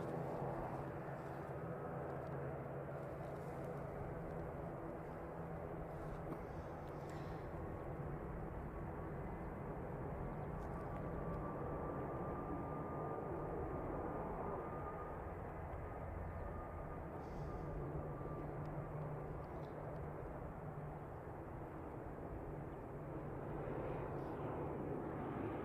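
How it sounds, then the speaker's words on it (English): Air New Zealand flight NZ5616 departs Christchurch Airport for Hamilton in heavy fog, a sustained low engine roar with a rising tonal whine as it climbs away, steady and moderately distant. "And just departing is NZ5616 to Hamilton."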